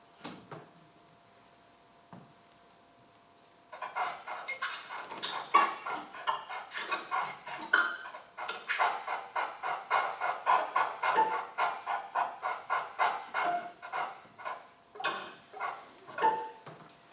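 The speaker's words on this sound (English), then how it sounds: "sounds of dog panting" Rapid rhythmic bursts of breathy dog-panting sounds form an electroacoustic music texture, starting sparse then pulsing densely with clicking accents.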